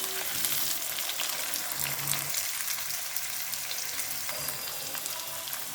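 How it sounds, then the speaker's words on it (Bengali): Onions fry lightly in a pan for a Bengali loitta fish recipe, giving a steady, close, even sizzle with faint stirring and no talk. "পেঁয়াজগুলো এখন আমি একটু হালকা ভেজে নেব।"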